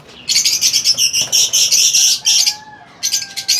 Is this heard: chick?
yes